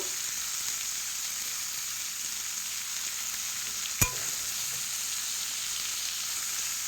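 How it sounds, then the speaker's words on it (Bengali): Steady frying sizzle as chopped ash gourd is stirred with a hilsa fish head and spices in a hot pan, with one sharp clink of the utensil against the pan midway. "এবার কেটে রাখা চাল কুমড়ো বা ছাঁচি কুমড়োটা আমি দিয়ে দিচ্ছি। দিয়ে একটু নাড়ি চাড়িয়ে নেব।"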